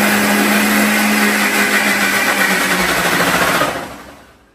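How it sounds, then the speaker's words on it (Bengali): A juice blender whirs loudly while making watermelon juice, a steady high-pitched motor drone at close range that winds down and fades out near the end. "এটা ভালো জুসের ব্লেন্ডার আমি কিনবো"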